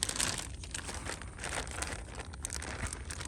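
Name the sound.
fish bag crinkling while being handled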